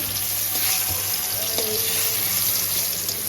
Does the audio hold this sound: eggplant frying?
yes